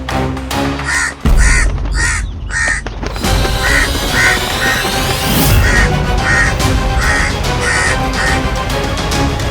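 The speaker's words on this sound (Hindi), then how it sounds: "कौवा" A crow caws repeatedly in a steady series of harsh calls, loud and close, over a busy background of other sounds.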